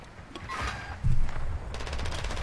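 SMG gunfire in a video game sounds as a quick burst of rapid, evenly spaced shots, fairly close and brief, near the end of a short moment of game ambience.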